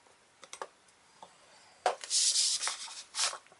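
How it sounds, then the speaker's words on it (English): A bone folder or scoring tool drawn along a steel ruler to score an envelope 2 1/4 inches across on a scoreboard, with light taps followed by a couple of short, crisp scraping strokes up close. "going to put it in your scoreboard or put it along your steel ruler, and you're going to score at 2 1/4 inches"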